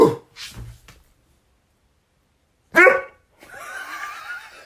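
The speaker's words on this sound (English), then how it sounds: "Bark at your dog and see what they do." A pet dog gives a couple of short barks and yips near the start, then a louder single bark after a silent pause, followed by a stretch of scuffling noise.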